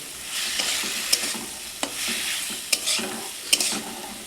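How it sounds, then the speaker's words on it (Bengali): Potatoes and vegetables are stirred with spices in a wok, giving a steady close-up scraping sizzle. A few sharp clinks of the spatula against the metal pan break through it. No one speaks. "দেওয়ার পরে একটু ভালো করে নেড়ে নেবো, যাতে মশলাগুলো সব লেগে যায় ছাঁটের গায়ে আলুর গায়ে"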